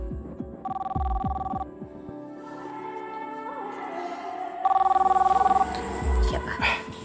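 A phone rings in two distinct electronic bursts a few seconds apart, set against a low background score with people talking.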